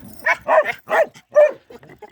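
A European Laika hunting dog barks in a quick series of sharp, close barks and yips, loud and alone with no talk over them.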